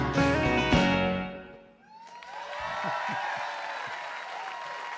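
Audience applause at a live show, rising again after music fades out, sustained, broad and fairly loud with a few whoops mixed into the clapping.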